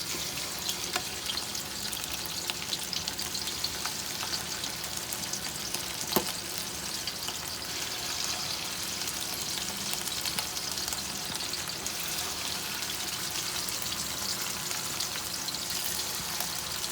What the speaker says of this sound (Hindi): धीमी आंच पे, ज़्यादा फुल आंच पे नहीं, धीमी आंच पे हम इनको फ्राई कर लेंगे।